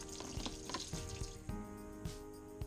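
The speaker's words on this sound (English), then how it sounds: "Turn the shower on, and as you can see, there's absolutely no water now coming from around the area" A Triton T80 Pro-Fit electric shower runs after its pressure relief device has been replaced, giving a steady hiss of falling water broken by irregular splashes and soft knocks.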